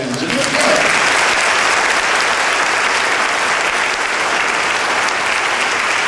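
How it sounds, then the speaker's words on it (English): A concert audience applauds a community band, dense steady clapping from a full hall that holds at an even, loud level throughout without pause. "Let's give the band just one more round of applause, ladies and gentlemen."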